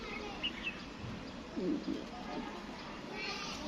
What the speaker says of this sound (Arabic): صوت العصافير جميل جميل بجد